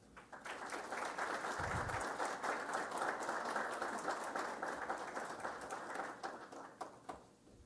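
An audience at an electricity infrastructure event gives a steady round of applause, many hands clapping in a sustained even wash for several seconds before it tapers off.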